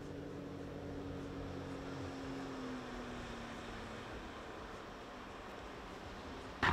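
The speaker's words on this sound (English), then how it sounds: "I think I hear a boat coming out of my channel." A small skiff's motor drones steadily at a distance as it approaches through a channel, a low continuous hum with a faint pitch that slowly glides downward, no voices present.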